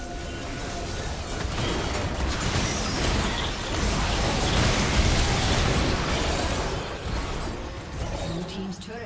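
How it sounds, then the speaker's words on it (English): Destruction of a turret in League of Legends: a sustained, dense burst of explosive crumbling and crackling debris that swells in the middle and lingers across the whole stretch. "Blue team's turret has been destroyed."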